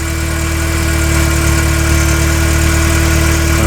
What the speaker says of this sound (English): It's running. That's the air pump. You hear that thing running.